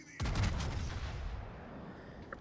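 Warship guns firing in the game World of Warships: a booming salvo at the start with a rumbling low tail that fades out, one faint click near the end, no talk.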